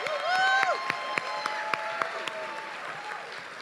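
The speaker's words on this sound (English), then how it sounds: "Give her a round of applause." An audience applauds an actress as she comes on stage, scattered claps under a sustained tonal hum and faint voices, with sharper individual claps standing out in an even, moderate wash.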